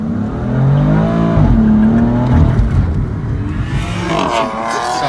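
A car loaded with four adults accelerates with a rising engine whine, then brakes hard to a full stop, the engine note falling away before a brief second rise; close and loud, no talking.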